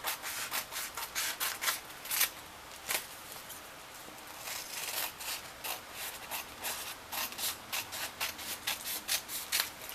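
Scissors snip through printed tissue paper in quick, close, crisp strokes, a steady run of short papery cuts and rustles with no voices.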